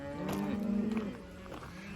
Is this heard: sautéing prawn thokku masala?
no